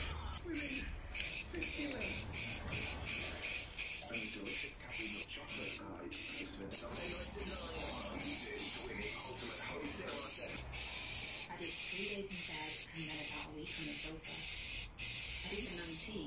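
Aerosol rattle can spraying colour paint over a white primer coat, with repeated short and long bursts of loud close hissing separated by brief pauses, some talk underneath.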